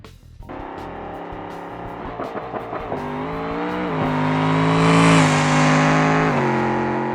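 The Porky drag car in BeamNG launches and accelerates hard down the West Coast Strip, its engine climbing through rapid gear changes into a loud, sustained high-revving roar, with no voices over it.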